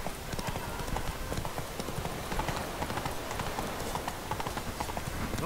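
Geralt's horse Roach from The Witcher 3 gallops in a steady, fast clip-clop of hooves that runs continuously and fairly loud throughout, with no voices present.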